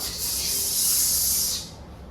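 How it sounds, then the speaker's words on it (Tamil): A steady hiss of spray paint from an aerosol can in the video game GTA San Andreas, rising in and holding for about a second and a half before cutting off. "ஸ்ப்ரே அடிக்கணும்டா அவ்வளவுதான் ஸ்ப்ரே அடிச்சுட்டான்"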